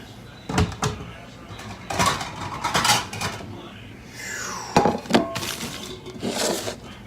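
In a home kitchen during brunch cooking, a plate is taken out of a cupboard with several wooden knocks, a door slide and clinking dishes, fairly close and loud, with a voice now and then.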